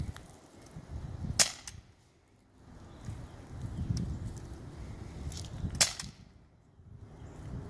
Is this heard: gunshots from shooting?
yes